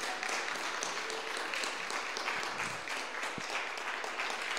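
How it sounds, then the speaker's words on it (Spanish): A church congregation at a Spanish-language service claps together in praise, a dense, steady wash of applause that holds at full strength for the whole stretch with no talking over it. "Alaba al Señor con un fuerte aplauso por su salvación"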